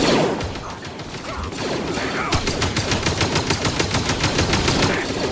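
Rapid blaster gunfire from clone troopers and purge troopers in Star Wars Jedi: Fallen Order, a loud, dense fusillade of repeated shots that settles into a steady rattling burst, with no talk over it.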